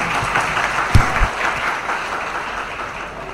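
Audience applause at a birth anniversary program in Hyderabad, a steady dense crowd clapping that holds throughout at moderate loudness, with a couple of brief low thumps near the start.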